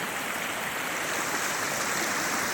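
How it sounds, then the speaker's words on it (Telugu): Floodwater overflows and rushes through a canal in a residential colony on a flooded road, making a dense, continuous roar of churning water that holds steady and loud throughout with no voices. "ఇది గ్రీన్ హిల్స్ కాలనీ యొక్క కాలువ మీద దృశ్యాలు అక్కడికి వెళ్ళి ఉప్పొంగి వస్తున్నాయి"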